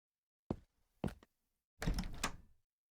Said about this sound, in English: I slammed the door in my own face again.